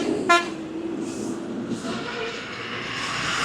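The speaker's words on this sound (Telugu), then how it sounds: "ఇక్కడికి వచ్చిన తర్వాత హార్న్లు అయితే కొడతారు కంపల్సరీ లారీ వాళ్ళు" A lorry horn on the road beside the Om Banna temple gives one short, sharp toot near the start, then a steady rumble of passing traffic carries on underneath.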